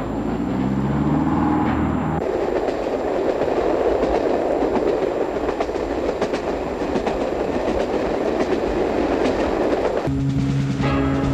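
A train rolls past on rails, a sustained loud rumble with rhythmic clickety-clack over several seconds, briefly joined by music at the start and end.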